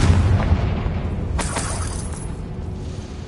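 A Confringo blasting spell goes off in the Hogwarts Legacy video game, a short booming blast with a bright shattering burst partway through over a rumbling low bed of game sound, and no one talks.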